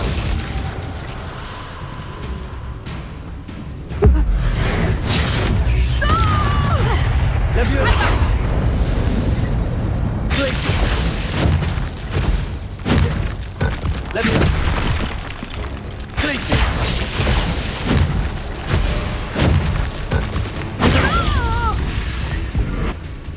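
Spell explosions in the video game Hogwarts Legacy: a series of booming blasts, crashes and bursts over a busy game soundscape, with a voice speaking between the impacts.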